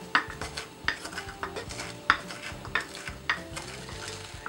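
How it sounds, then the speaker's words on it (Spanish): Fresh thyme leaves and salt are pounded in a mortar, giving a series of sharp, regular knocks about every three-quarters of a second with faint grinding between, close and alone without speech. "Le ponemos un poquito de sal. Empezamos a majar muy bien."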